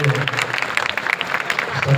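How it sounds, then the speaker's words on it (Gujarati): Audience at a Swaminarayan temple assembly in Rampura claps in a steady, dense round of applause that holds at an even level throughout. "હાલો એકવાર તાળીનો ગડગડાટ કરીએ."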